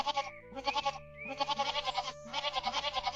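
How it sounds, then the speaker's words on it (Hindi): Young goats bleat repeatedly in bursts, a chorus of high wavering cries close by, with a steady low hum underneath; the scene is an animated animal story. "और बकरी के बच्चे फिर शोर मचाना शुरू कर देते हैं।"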